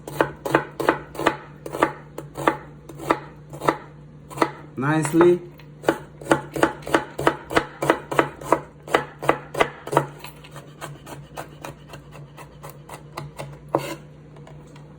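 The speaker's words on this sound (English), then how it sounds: "I'm gonna show you how to cut easy diced onions, red onions perfectly." A knife dices red onions on a cutting board in a steady run of crisp, close chops, roughly two per second, slowing slightly and then fading near the end, with one brief spoken word.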